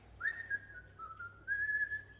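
A single person whistles a tune: a clear, sustained melodic whistle in two phrases with a short dip between, close and fairly quiet over a low steady hum.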